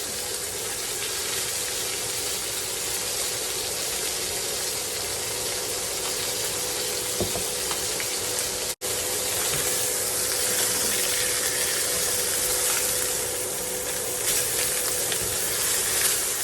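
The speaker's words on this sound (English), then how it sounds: "When we sear things, we kind of just want to let it have its time." Beef braciole searing in a hot pan, a loud, steady, close sizzle that holds unbroken for a long stretch, with only a brief cut partway through and no voices.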